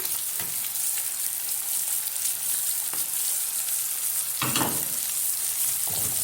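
About two onions drop into hot ghee over chicken liver and fry with a loud, constant hiss, broken by a few sharp scrapes of stirring.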